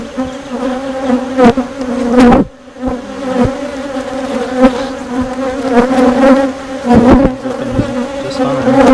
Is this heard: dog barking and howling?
no